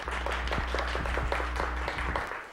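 Canned studio-audience applause on a cooking show, a short burst of scattered claps at moderate volume, fairly distant and thin, tapering off near the end.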